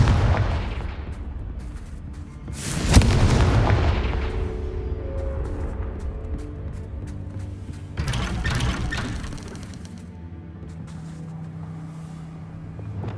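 Confringo fire spell explosions in the Hogwarts Legacy game on PC: two sharp, loud blasts several seconds apart, each trailing into a rumbling decay over continuous low background din.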